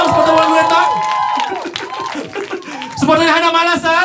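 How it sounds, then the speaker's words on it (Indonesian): Supporters of Wulan Guritno clap and cheer at a press conference for the series Serigala Terakhir 2, with steady crowd applause and cheering mixed with a speaking voice throughout. "Tepuk tangan dong, supporter Wulan Guritno."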